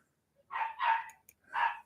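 A dog barks three times in quick succession, fairly near and moderately loud, with short gaps between the barks and no talk over them.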